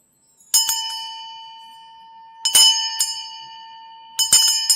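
A metal bell rings out three times in clear, bright strikes, each leaving a long sustained ring that slowly fades before the next, with no talk over it.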